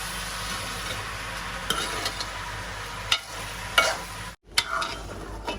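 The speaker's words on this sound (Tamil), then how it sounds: "உப்பை போட்டு போட்டு நல்லா எண்ணெயில் வதங்க விடுவோம்" Salt stirred into a pan of sizzling oil, with a constant low fry, scattered spatula scrapes and taps, and a brief dropout near the end, heard up close without talk.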